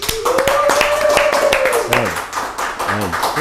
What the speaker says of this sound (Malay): Tepuk tangan sikit guys.